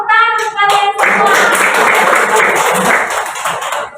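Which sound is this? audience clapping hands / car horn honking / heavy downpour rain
audience clapping hands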